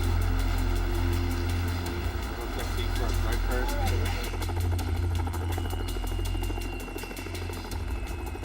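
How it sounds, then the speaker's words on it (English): A rescue helicopter lands at a trench collapse site, its rotor and engine a steady, loud low drone with rhythmic blade chop running through the whole stretch, while people talk underneath. "The helicopter landed as close as it could, but it was still a quarter mile away."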